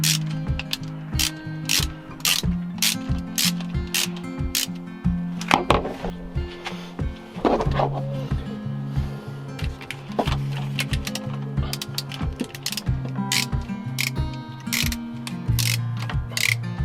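A ratchet clicks steadily and rapidly, close and loud, while a mechanic loosens the starter motor bolts on a Smart car; the mechanical ratcheting runs almost continuously with brief pauses.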